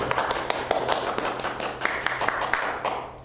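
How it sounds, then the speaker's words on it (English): Wedding guests clap at a live ceremony just after the couple is pronounced husband and wife, a brisk scatter of close hand claps forming steady applause with little talk over it. "You may applaud."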